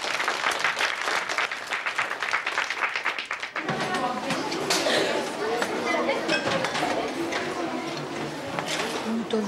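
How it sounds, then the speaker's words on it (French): Applause for Lucie in a classroom, brisk clapping that soon gives way to lively chatter and talking voices, with light clinks and rustling in the room. "On applaudit très fort."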